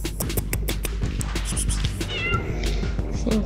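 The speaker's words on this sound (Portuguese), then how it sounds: "Um gatinho." A kitten meows in a quick run of short, high cries, fairly close, over low background rumble and some soft movement noise.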